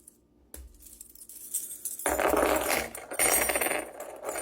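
A bunch of small metal keys, some with little lock charms, handled and jingled close by, bright metallic clinks and rattles swelling after a quiet start.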